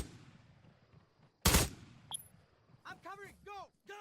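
Heavy machine gun fire in a video game: a single loud, sharp burst of gunfire that cuts off quickly, followed by a brief ping, then a voice speaking over quieter background sounds.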